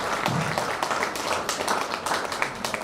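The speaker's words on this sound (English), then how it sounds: "with a big round of applause" Audience applause at a higher education event, a sustained round of dense clapping from a hall of listeners, steady and fairly loud throughout.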